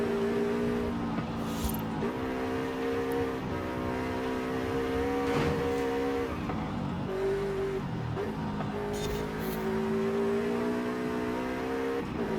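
A Volkswagen in Forza Horizon 5 accelerates out of corners with a steady, loud engine drone whose pitch climbs and dips through gear changes, continuous and close throughout.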